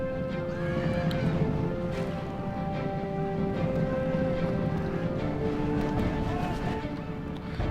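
Repeated horse neighs ring out over galloping hooves and a busy battle din in Rome: Total War, continuous and moderately loud.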